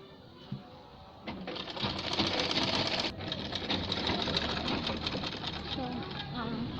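A sewing machine stitches gloves, running in a rapid, steady mechanical patter that starts after a brief pause and continues loud and close, while a person speaks quietly over it.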